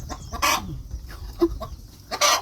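A hen clucks in short, scattered bursts close by, with brief louder squawks between the quieter clucks.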